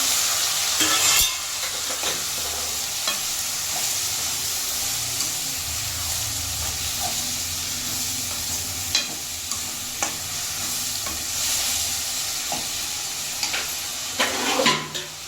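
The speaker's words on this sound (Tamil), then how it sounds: "நல்லா வதங்கட்டும். இப்போ தக்காளி ஓரளவுக்கு நல்லா வதங்கிடுச்சு." Tomatoes and onions sauté in a pan for a country chicken curry, with a continuous close sizzle under repeated stirring scrapes and occasional sharp clacks of the spoon against the pan.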